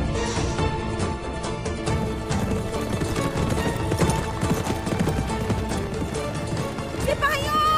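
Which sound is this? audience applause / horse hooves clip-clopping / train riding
horse hooves clip-clopping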